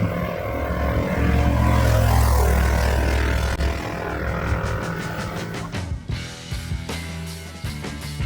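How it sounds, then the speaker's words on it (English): A small 670cc twin-carburetor Predator-powered Renault car engine drones loudly up close, straining and revving, then settles into a rapid pulsing rhythm as it keeps driving. "we're asking a lot from this little 670cc engine"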